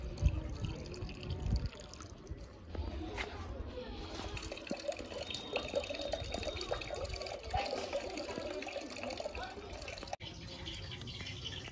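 Clean filtered water poured into the coolant system of a Ducati 848 Evo motorcycle, a faint continuous trickle and splash with scattered drips and clinks, quiet and close, with no voices over it.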